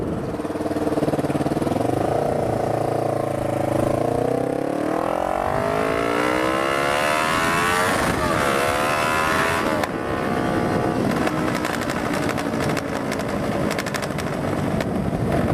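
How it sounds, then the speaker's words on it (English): A loud vehicle engine with an exhaust leak idles and revs up with a rough, ticking rasp, rising in pitch then settling into a steady throbbing drone. "That exhaust leak though."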